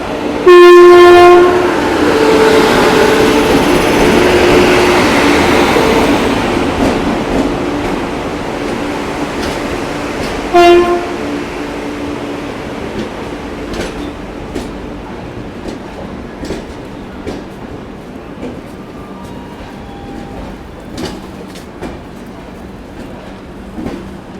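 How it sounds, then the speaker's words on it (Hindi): The New Delhi-Dibrugarh Rajdhani Express stops at Samastipur Junction platform. A loud train horn blares at the start and again briefly near the middle, then rolling rail noise and faint clicks fade away. "5 मिनट के लिए अपनी ट्रेन रुकती है और यहाँ से फिर निकल जाती है आगे की ओर।"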